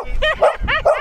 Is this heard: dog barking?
yes